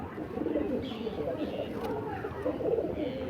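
Madrasi pigeons coo softly in a loft, a continuous low murmuring of several birds close by with no talk over it.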